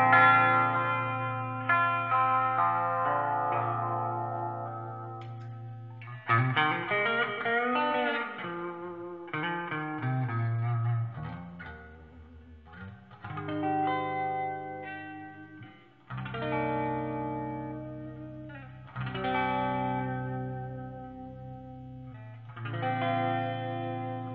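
An electric guitar through a tube amp's clean channel plays picked chords and single notes drenched in lots of reverb, each note ringing out and decaying in long, shimmering tails, with no talking.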